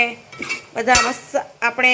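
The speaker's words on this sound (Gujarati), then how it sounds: "બધા મસાલા નાખી દીધા છે અને હવે આપણે એને ચમચાની મદદથી સરસ મજાનું મિક્સ કરી લઈશું." A spoon stirs spices into a pot of tomato curry, sharp metallic clinks and scrapes against the pot in irregular bursts, close and loud, with a faint sizzle underneath.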